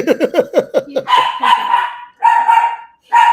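A dog gives a quick run of sharp, close barks, then breaks into longer, drawn-out yelping howls with short pauses between them.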